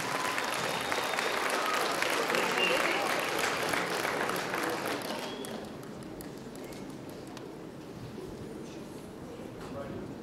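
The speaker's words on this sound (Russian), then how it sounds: "Ну а где аплодисменты?" Audience applause for young violinist Anna Titova at a school music concert, a dense crowd clapping that holds steady and then fades to softer scattered claps toward the end.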